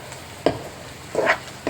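Onion, garlic and curry leaf frying in hot oil in a pan, a faint steady sizzle broken by a few short scraping stirs, close and without voices.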